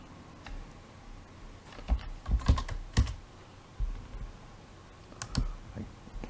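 Numbers being typed on a computer keyboard: scattered close key clicks in short bursts and single taps, quiet between strokes, with no talking.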